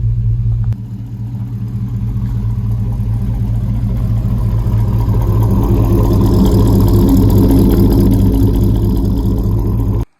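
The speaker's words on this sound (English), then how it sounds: "now it idles" A truck engine idles steadily for about ten seconds, a loud, continuous low rumble that dips slightly near the start and then holds even until it cuts off at the end, with no talking. The truck has a GM 10-bolt rear axle being fitted with a mini spool.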